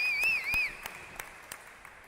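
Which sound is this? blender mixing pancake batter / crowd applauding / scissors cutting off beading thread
crowd applauding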